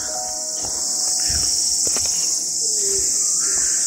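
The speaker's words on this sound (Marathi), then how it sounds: "पावसा पक्षाचा आवाज येतोय बघा" A monsoon rain bird calls in a Konkan village forest, its short calls rising over a loud, steady chorus of crickets.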